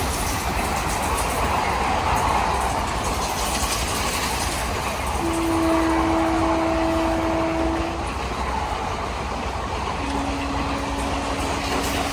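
A train approaches with a loud, steady rumble and clickety-clack of wheels, plus a couple of sustained horn or wheel-squeal tones near the middle and end, all without talking.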